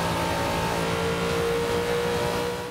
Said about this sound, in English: You can't beat a V8 diesel Hummer.